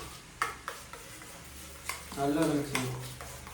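A spoon stirring Boost powder and cream together in a bowl, light repeated clicks and scrapes, with a voice talking partway through.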